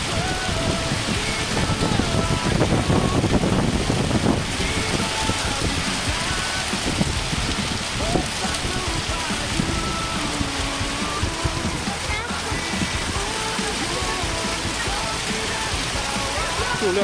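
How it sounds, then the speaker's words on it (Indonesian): Heavy rain pours down outdoors on a savanna camp near a motorhome cart, a dense, continuous hiss of falling water with scattered louder patter, while people talk briefly over it. "Ini hujan ini ya."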